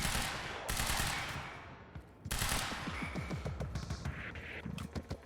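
Automatic gunfire in the video game Quantum Break: dense, sustained volleys of rapid shots, loud and close, rolling continuously with brief dips.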